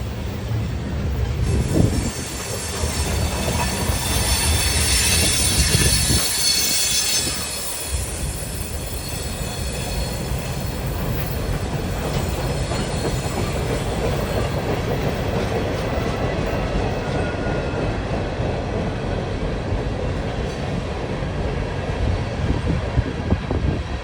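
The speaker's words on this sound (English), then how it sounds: "So it's just this really long and slow odd train." A long, slow Wheeling and Lake Erie freight train rolls past at a fair, its steady rumble and clattering wheels filling the whole stretch, with a louder surge and high wheel squeal early on before settling into continuous rolling noise.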